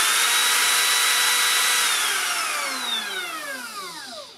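A Makita 18-volt cordless router whines at high speed, loud and steady, then spins down with a falling pitch as the motor winds off.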